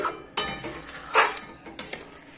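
Stirring jaggery into thick payesh in a pot, a few separate clinks and scrapes of a spoon against the metal pot, close and sparse, with quiet pauses between strokes.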